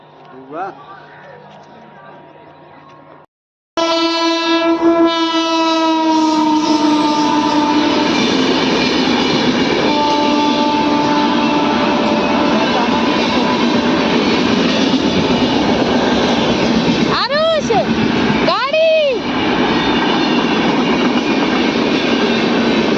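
A passenger train rumbles steadily with a continuous rolling clatter, opening with a long drawn horn and later two sweeping whistle-like tones, while voices talk nearby.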